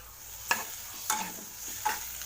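Small dosa pieces stirred and fried with masala in a pan: three distinct scraping strokes of a spatula over a low, continuous sizzle, close up with no talking.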